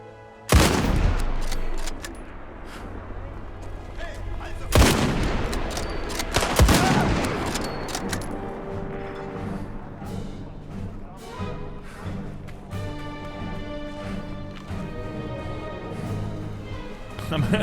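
Gunfire while shooting Nazis in Indiana Jones and the Great Circle: a few loud, close shots and short bursts over a steady in-game music bed, with someone talking between them.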